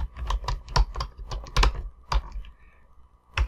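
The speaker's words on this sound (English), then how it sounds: "Now I'm going to type in prefetch" A computer keyboard is typed on in a Windows run box, a quick close burst of about a dozen crisp key clicks followed by a pause and one final keystroke.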